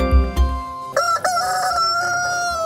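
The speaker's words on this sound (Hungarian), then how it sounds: "Kakas kukorékolástól volt hangos az idei első kisállatbőrze" A rooster crows loudly and close by at a small animal fair in Gyula, Hungary, one drawn-out cock-a-doodle-doo following a few low clucks and thumps at the start.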